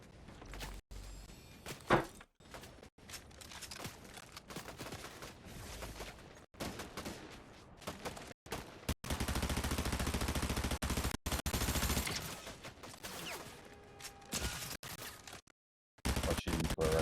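Video game gunfire crackles in scattered bursts and sustained automatic volleys, moderately loud, with brief gaps of near silence between stretches of shooting.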